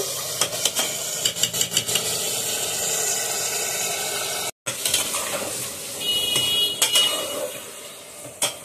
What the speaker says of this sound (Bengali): মশলাটা খুব করে নাড়াবো আর এই পেঁয়াজের সাথেই মাংসটা কষাবো।